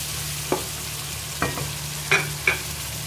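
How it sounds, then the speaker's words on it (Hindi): A spoon stirs cauliflower masala with chopped green chillies in a pan, giving four separate scraping strokes over a low steady sizzle, close by. "चम्मच चलाएंगे"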